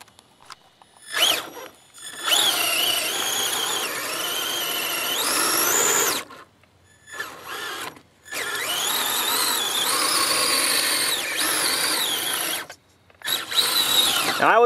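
Axial SCX10 RC crawler fitted with a fan-cooled Sidewinder motor and Predator tracks churns through mud, its high electric whine rising and falling in three long bursts separated by short pauses.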